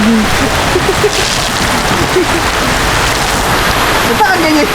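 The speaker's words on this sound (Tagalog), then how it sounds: "At kami dito sa ulan." Rain falling steadily on Cagbalete Island, a dense, continuous wash of patter that stays loud and close throughout, with people talking and calling out over it.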